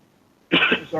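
A single harsh cough bursts out after half a second of near silence, loud and close, with a rough throaty texture.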